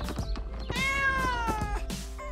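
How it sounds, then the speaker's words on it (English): A cat meows several times, close and clear, including one long drawn-out meow in the middle, with no one talking. "The cat is also interested."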